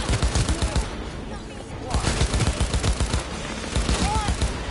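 Rapid assault rifle bursts in Cyberpunk 2077, loud and close, firing in repeated volleys with a short pause between them.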